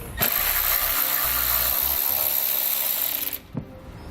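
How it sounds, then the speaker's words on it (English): A ratchet with a 10mm socket works a plastic nut loose during a trailer hitch install on a 2010 BMW X3, giving a loud continuous whirring buzz for about three seconds before it suddenly stops. "you're going to want to grab a 10mm socket and pull that out as well."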